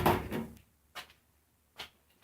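Door of a homemade hardtop on a Jeep TJ opening, a muffled clunk and rattle at first, then two short, separate knocks or latch clicks, close and quiet in an otherwise still space.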